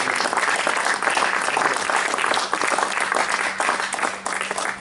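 An audience at a literary evening in Slovenia gives sustained applause to honour a woman's 70th jubilee, a continuous, moderately loud patter of many hands with no voices over it.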